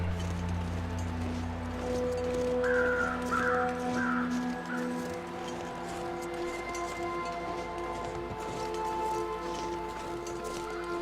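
Crows caw several times in a short cluster in The Long Dark video game, set against a steady ambient wind and drone bed with no talk.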